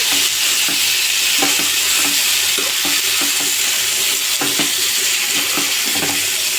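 Eggplant and tomato pieces sizzle steadily in a hot pan for a fish curry, a loud continuous frying hiss with soft stirring scrapes recurring throughout.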